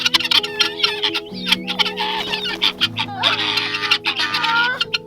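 Chickens cluck and chatter busily nearby, overlapping calls forming a continuous flock murmur with a low steady hum underneath.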